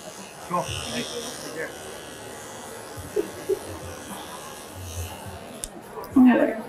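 Electric clippers trim the chest of a doodle dog, giving a low, steady buzz with scattered short handling clicks and a louder rustle near the end.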